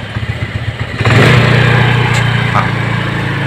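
An automatic scooter with a carburetor fault and an abnormal idle is revved with the throttle: a steady idle putter jumps to a loud, close engine roar after about a second, then holds at a raised, slightly falling rev.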